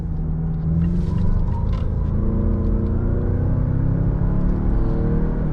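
A 2020 Mazda CX-9 Signature pulls away with a steady, strong engine drone that rises in pitch as the SUV accelerates, heard from inside the cabin with no talking.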